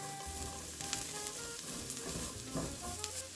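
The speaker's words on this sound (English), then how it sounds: "And to this pan, we are going to add our onions. And continue to cook until they are translucent." Onions fry in a pan for a chicken and broccoli stir fry, giving a soft, steady sizzle with occasional stirring scrapes, fairly quiet and close, with no talking.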